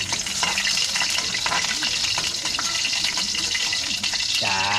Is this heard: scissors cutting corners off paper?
no